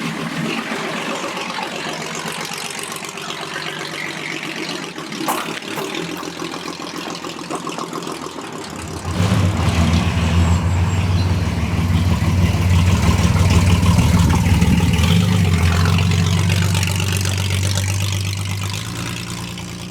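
A classic project car's engine starting and running on a drive, a low steady rumble that swells after a few seconds, with a brief clunk before it and soft background noise.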